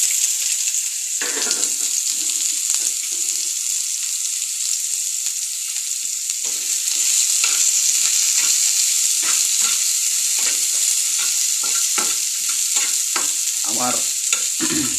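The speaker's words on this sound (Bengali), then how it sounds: "পেঁয়াজটা দিয়ে দিলাম।" Chopped onions sizzle steadily in a frying pan, with a constant hiss throughout and repeated scraping knocks from stirring, close and fairly loud, with no talking.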